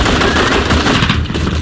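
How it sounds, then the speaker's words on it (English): Furious automatic gunfire from a gun battle at an airport building during the Munich Olympic massacre: dense, rapid bursts that rattle continuously and loudly with no pause. "A furious gun battle ensues."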